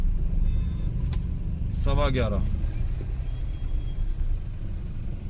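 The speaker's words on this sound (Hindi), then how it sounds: "बुलंदशहर की काली नदी पे बहुत भयंकर ट्रैफिक है" Heavy traffic jam on the Kali river bridge in Bulandshahr: a steady low rumble of idling and creeping vehicles runs throughout, with someone talking over it.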